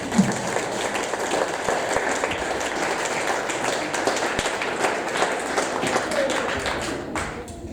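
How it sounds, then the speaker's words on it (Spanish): Church congregation applauding: dense, steady clapping from a crowd filling the room throughout, with a few louder individual claps standing out, fading slightly at the end. "¿Le pueden dar un fuerte aplauso a Jesús?"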